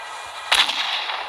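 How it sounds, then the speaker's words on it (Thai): A single sharp gunshot in the horror game Motherbirb Horror Story 2: Madhouse cracks out over a steady hiss, followed by a brief echoing tail. "เสียงปืนโคตรดีอ่ะ"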